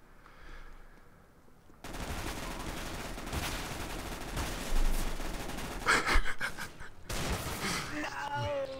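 Rapid automatic gunfire crackles in a CS:GO competitive match, coming in bursts with short gaps, mixed with gasps and vocal reactions from players.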